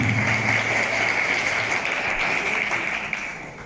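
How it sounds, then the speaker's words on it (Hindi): A crowd at a Republic Day school event gives loud applause for Sardar Bahadur Singh, a sustained, even wash of many hands clapping that holds strong throughout with no voices on top. "एक बार सरदार बहादुर सिंह के लिए जोरदार तालियां।"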